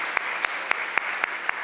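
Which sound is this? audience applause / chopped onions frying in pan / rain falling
audience applause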